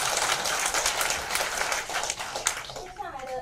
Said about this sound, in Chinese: 请各位再次以热烈的掌声感谢唐凤讲座